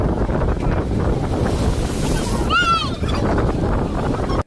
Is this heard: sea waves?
yes